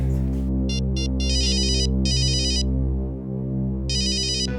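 A telephone rings with rapid electronic trilling bursts, two short and two longer, then a pause before another ring, over a low steady hum.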